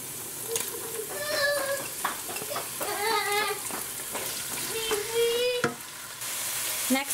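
Shrimp sizzling in a hot pan with garlic and ginger, a steady broadband crackle with brief squeaky scrapes of stirring and tonal utensil squeals scattered through, fairly close and loud, with no talk.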